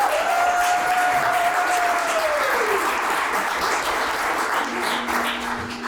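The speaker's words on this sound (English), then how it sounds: "if you would please cheer for the board" An audience at a charity anniversary event claps steadily for the board, a full, even burst of applause with a thin whistle-like tone early on.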